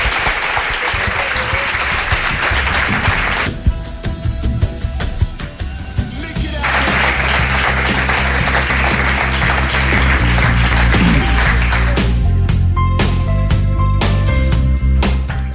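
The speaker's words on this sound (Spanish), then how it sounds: "Pido un aplauso para ellos." A crowd claps steadily and warmly for a long stretch, the dense applause swelling and holding, with brief dips and a few scattered voices.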